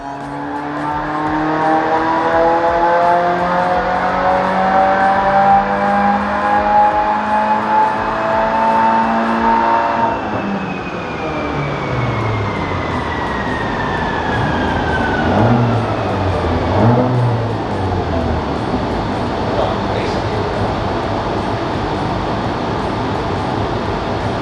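A built-block Subaru WRX on flex-fuel ethanol tuning runs a dyno pull, its engine note climbing loud and steady, then dropping off and winding down with rolling drivetrain noise.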